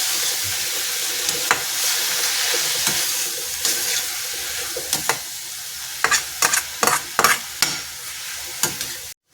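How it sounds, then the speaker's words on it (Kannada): Finely chopped fenugreek leaves frying in a pan, a continuous sizzle with a run of sharp spatula scrapes and taps that grows busier toward the end, close and clear. "ಇಲ್ಲಿ ಮೆಂತ್ಯ ಸೊಪ್ಪನ್ನ ಸೋಸಿ ಸಣ್ಣ ಹೆಚ್ಕೊಂಡಿದ್ದೀನಿ. ಅದನ್ನು ಫ್ರೈಗೆ ಹಾಕ್ಕೊಳ್ತಾ ಇದ್ದೀನಿ."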